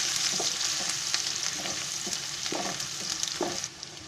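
Finely chopped onion fries in a hot pan for prawn rice, a close, steady sizzle with rhythmic spoon scrapes every half second or so. The sizzle eases slightly near the end, and no one speaks.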